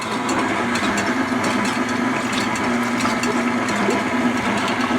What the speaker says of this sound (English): I'm going to start mixing this.